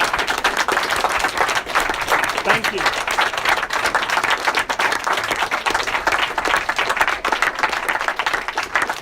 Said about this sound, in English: I advise instead that we give everyone a round of applause for coming.